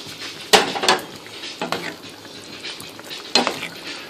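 Red snapper stew in a pot on the stove, a soft bubbling sizzle beneath sharp clanks of a utensil against the pot as it is stirred, close and without talk.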